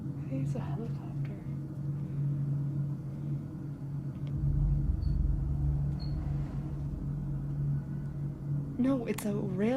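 Steady low rumble of a distant train on a railroad beside an old abandoned railroad hospital in Texas, droning continuously and swelling slightly midway, with no voices over it.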